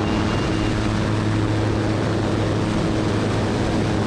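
A floatplane in flight after a water takeoff, its engine and propeller droning loud and steady with a constant low hum and no break or talk.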